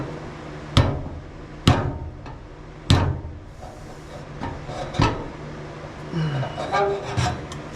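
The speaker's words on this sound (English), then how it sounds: "that's pretty silly hammering it up like that" A part is hammered into a Chevelle car frame during a Hellwig frame kit install, with four sharp metallic blows spaced unevenly, then quieter knocks and scraping as the work continues, close up in a garage.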